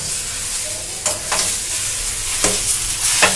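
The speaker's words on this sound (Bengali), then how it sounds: "ওই জন্য আঁচটা লোয়ে রেখে এই মেশানোর কাজটা কিন্তু করবেন।" Lentil dal mixture for kochori stirred in a pan over low heat: a soft continuous fry under repeated spoon scrapes at an uneven pace, close by, with no speech.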